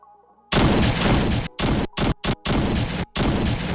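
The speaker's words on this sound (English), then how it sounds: "How come my gunshot's not working?" Rapid bursts of soundboard gunshot effects fire in a dense volley, loud and close, broken by short silent gaps between clusters of shots.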